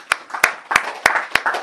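A church congregation claps in slow, even unison during a sermon, five crisp, loud claps about a third of a second apart with a faint trailing scatter after each.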